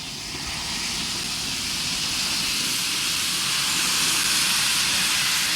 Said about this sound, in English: Another XMZA 480 heads the train and is duly flagged in by the station master.